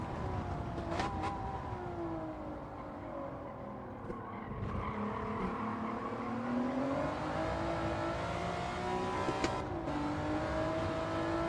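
Race car in a no-assist racing video game roaring past, engine pitch sweeping up and down with gear changes, a steady loud drone with a brief shift in tone as it flies by.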